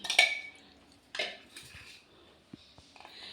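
A metal pan set down on a home kitchen stove, making a few sharp clinks and clatters followed by smaller scattered taps and knocks, close and fairly quiet.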